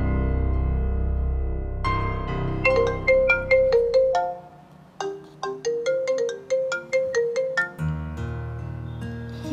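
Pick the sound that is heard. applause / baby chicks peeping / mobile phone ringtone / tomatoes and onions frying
mobile phone ringtone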